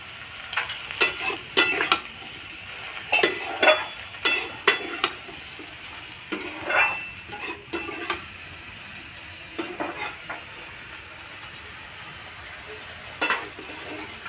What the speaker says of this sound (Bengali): একটু ভেন্ডিটা নেড়ে দিয়েছি